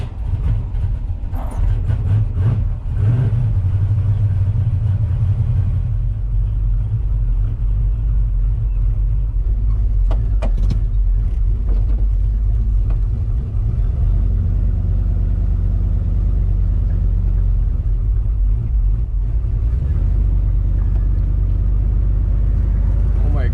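A 1965 Ford Falcon drives on a public road, a loud, steady low engine drone and road rumble heard from inside the car throughout, with a few brief knocks and rattles.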